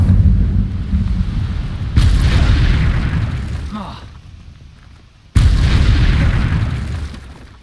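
Incendio fire spell blasts in Hogwarts Legacy, two loud booming bursts with rumbling, slowly fading tails, the second striking after a short quieter stretch.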